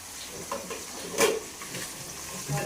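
A spoon scrapes and stirs mint and coriander into a simmering dry fish curry with broad beans. There are soft clinks and a quiet bubbling sizzle, with one louder scrape midway and no talking.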